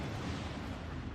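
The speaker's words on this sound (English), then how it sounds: "We're seeing Merrick's use cannons." Cannons fire in a competitive 2v2 video game match, producing a dense, continuous booming roar of blasts that fills the brief moment at high loudness.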